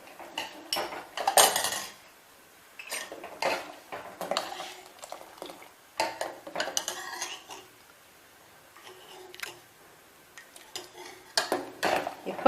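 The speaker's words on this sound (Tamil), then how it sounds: "இப்போ முதல்ல நம்ம இந்த பாலில் கொஞ்சோண்டு குங்குமப்பூ போட்டு கலந்துக்கலாம்" A spoon stirring saffron strands into milk in a metal vessel, brisk bursts of clinking and scraping that come and go with quiet pauses between, nearby and without talk.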